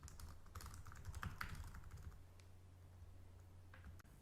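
A computer keyboard being typed on, soft quiet clicking keystrokes in a short burst then sparser taps over a low steady room hum.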